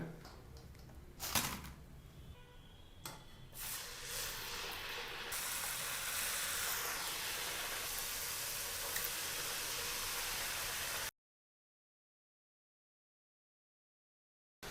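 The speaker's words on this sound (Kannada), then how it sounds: "ನೋಡಿ, 2ನೇ ಬಾರಿಗೆ 4 ಚಕ್ಲಿಗಳನ್ನ ಒಟ್ಟಿಗೆ ಡೀಪ್ ಫ್ರೈ ಮಾಡ್ಕೊಳ್ತಾ ಇರ್ತಕ್ಕಂಥದ್ದು" Four chakli deep frying together in hot oil at home, a steady dense sizzle and crackle that holds level for about ten seconds, broken by a few sharp ticks early on, then cutting to silence.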